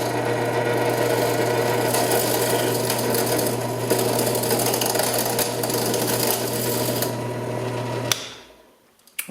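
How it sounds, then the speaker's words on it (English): A drill with a modified bit grinds out the rivet on a Matchbox die-cast car, a steady, loud, close whirring that runs for about eight seconds before stopping abruptly. "Now, with this is a modified drill bit, it's going to walk a little bit."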